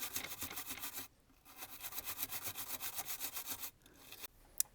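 A toothbrush scrubs the cartridge-slot contacts of a broken Japanese Super Famicom game console, with fast, even back-and-forth bristle strokes. The rasping is close and steady, pauses briefly, then resumes.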